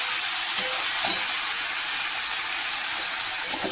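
Vegetables sautéing in a pan with cumin, coriander, tomato and ginger, a steady soft sizzle and hiss running throughout with a few faint stirring clicks, no voices.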